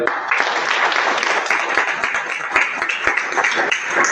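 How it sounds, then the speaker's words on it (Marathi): Audience applause at a birthday celebration for a company founder in Shirdi, a loud sustained burst of many hands clapping with sharp individual claps standing out. "आपण जोरदार टाळ्या वाजूया"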